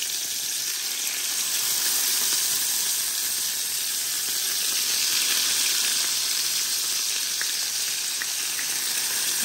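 Rohu fish, rubbed with salt and turmeric, fries in hot oil, a steady dense sizzle and crackle that fills the whole span with no talking.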